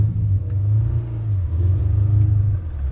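A manual-transmission car engine revs hard, a loud steady low drone that swells and dips slightly, close, with no clear separate clunk.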